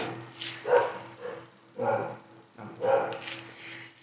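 A dog barks three times, each bark about a second apart, moderately close against an otherwise quiet indoor background.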